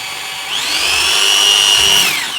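An electric drill boring a hole in a sewing machine plate whines loudly and steadily, its pitch climbing as it spins up and then dropping off as the bit finishes, close and with no talk over it.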